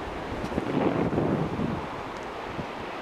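Ocean waves roll onto the coast near Muxia in Spain, a broad soft wash swelling and fading under steady wind buffeting the microphone, with no one speaking.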